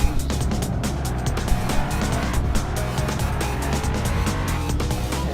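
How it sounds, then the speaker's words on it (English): Racing cars roar past on a track in a racing video game, a dense, continuous engine drone with repeated whooshing pass-bys and brief tire squeals, loud and steady throughout with no talking. "Car gets around Riley for 13th place"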